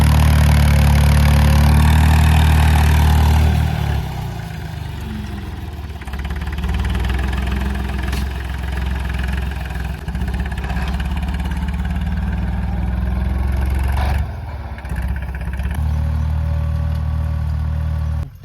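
A farm tractor engine runs close by with a loud deep rumble, idling roughly and rising and falling in intensity across the stretch, with no voices.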